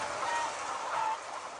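Hens cluck in a henhouse on a floor-rearing egg farm, a continuous dense murmur of many birds with a few clearer clucks rising above the din, no voices.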